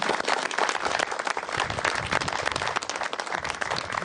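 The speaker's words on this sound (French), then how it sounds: "je pense qu'on va les applaudir" Audience applause at the award ceremony of a French boat fishing championship final, a dense, steady wash of clapping that holds loud and even for several seconds with no clear pauses.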